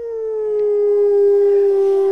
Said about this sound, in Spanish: en las demás casas los perros ladraban y aullaban con locura